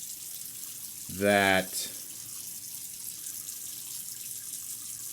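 A bathroom tap briefly gushes while a single-edge razor is rinsed, a short burst of running water over a quiet room hiss, and a voice speaks a word just after it stops.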